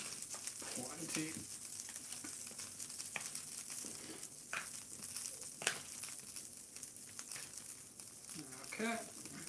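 Shrimp being heavily seasoned and stirred in a pan, soft sizzling with scraping and tossing sounds, quiet and close, in short bursts.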